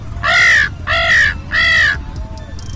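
A boy imitates a crow with three loud, harsh caws in quick succession, close and clear, followed by faint background sounds.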